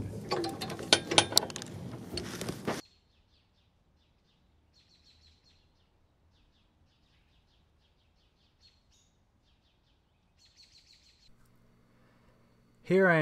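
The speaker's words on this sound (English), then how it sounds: "Ratchet for the quarter inch socket." A ratchet with a quarter-inch socket working on the cabling of a popup camper gives a few quick clicking bursts, with short rapid ratchet clicks near the start and again near the end, separated by near silence.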